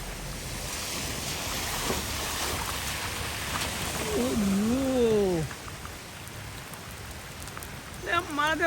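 Steady rain falls outdoors with a dense, even hiss of drops on surfaces. Voices talk briefly over the downpour, which carries on throughout.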